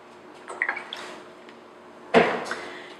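Solvent poured over an inked printing roller: a few short splashes and drips, then one sharper wet splatter, close up in a quiet room.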